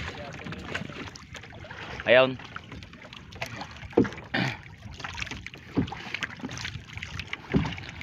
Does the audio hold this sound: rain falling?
no